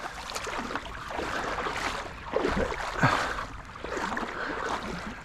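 Water splashing and sloshing in a shallow stream while fish are chased, a steady broadband wash with a few louder splashes near the middle, close by and outdoors.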